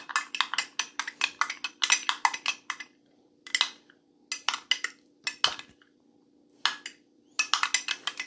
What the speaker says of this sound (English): Just gotta stir it in.